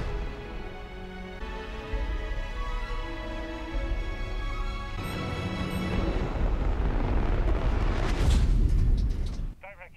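Spaceship weapon fire and a heavy explosive rumble from a battle in the sci-fi series The Expanse, a dense low boom swelling under music and building to a loud burst near the end before cutting off.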